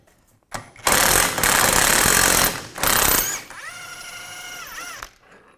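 A power tool spins an 18mm socket to remove a rear shock bolt on a 2007-2013 Mini Cooper, giving loud bursts of rattling hammering and a brief whirring pitch sweep near the end.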